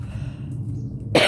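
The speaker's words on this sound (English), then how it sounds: "something's making me cough" A single harsh cough bursts out close and loud at the end, after a quiet outdoor stretch with a low steady hum, during garden work on a dry day after rain.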